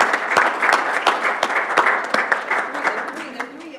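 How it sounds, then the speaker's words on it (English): An audience at a Board of Education meeting applauds young people, with brisk, fairly close clapping and distinct individual claps that taper off toward the end, and a voice briefly audible. "Let's give her a round of applause"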